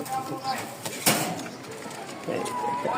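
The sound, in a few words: pigeon cooing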